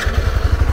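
A motorcycle engine runs close by with a rough, pulsing low rumble, loud and steady through a short burst, without talk over it.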